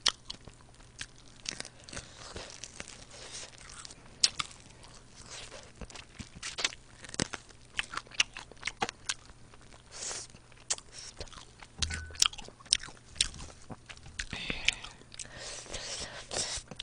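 Close, steady crunchy biting and chewing of fried Kyochon chicken wings, with a dense run of crisp bites and wet mastication sounds and occasional soft whispering underneath.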